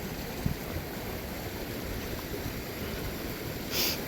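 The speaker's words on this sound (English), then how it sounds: "Cute little stream, but it's kind of flowing." A small stream flows at a river crossing on a trail, a steady soft rush of water with no clear breaks, faint and even throughout.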